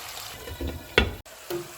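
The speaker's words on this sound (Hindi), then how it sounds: "इसमें मैं थोड़ा सा पानी डाल रही हूँ और इसे ऊपर से ढाँप देंगे 10 मिनट के लिए" Water is poured in short bursts into beef cooking in a pot, splashing and sizzling briefly against the hot meat. Quiet kitchen sounds fill the pauses between pours.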